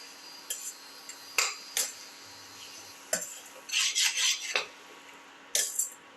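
Salt paste is being mixed into chicken pieces for a ginger potato chicken casserole, with a utensil scraping and stirring against the pot in short, irregular bursts separated by quiet pauses. Close and fairly soft.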